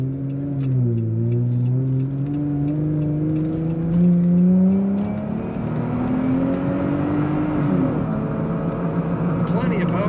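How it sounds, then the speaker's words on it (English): A 2020 Jeep Gladiator SCA Black Widow Edition accelerates with an aggressive exhaust note, its engine rising steadily in pitch under continuous nearby talk. "Nice aggressive exhaust note to these."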